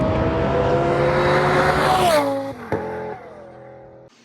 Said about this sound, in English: this is my twin turbo Lambo